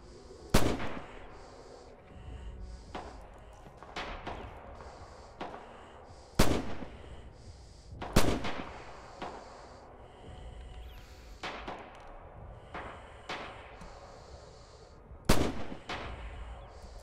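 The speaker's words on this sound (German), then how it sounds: "Oh, jetzt wurde ich aber auch gerade mal beschossen hier." Sharp, isolated gunshots at irregular intervals in the World War II shooter Rising Storm Red Orchestra 2, some loud and close, others fainter, over a quiet battlefield background.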